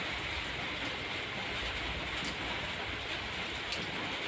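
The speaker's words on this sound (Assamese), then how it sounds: "বৰষুণৰ সেই পানীৰ টোপালৰ শব্দ শুনি, টুপ টুপকৈ পৰি থকা পানীবোৰ" Steady rain falls in a continuous close hiss, with faint scattered drop ticks and no voices over the dense wash.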